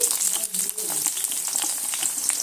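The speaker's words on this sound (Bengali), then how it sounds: "শুকনো লঙ্কাটা প্রথমে একটু সুন্দর করে ভেজে নিচ্ছি লাল লাল করে দিয়ে দিচ্ছি পেঁয়াজ কুচি" Chopped onion and dry red chili frying in hot oil while cabbage bhaji is made, a loud, close, crackling sizzle with quick spattering pops and a brief stir, no talk.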